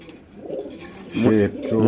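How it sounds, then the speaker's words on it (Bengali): Brief, low cooing from a pair of very large pigeons close by, mixed with a person talking. "একজোড়া বিশাল বড় সাইজের কবুতর"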